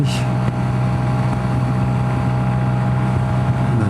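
A Lambretta G350 scooter engine labours uphill while fully loaded, producing a loud, steady, continuous drone with heavy wind rush throughout and no talk.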